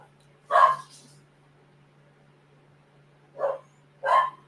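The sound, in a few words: dogs barking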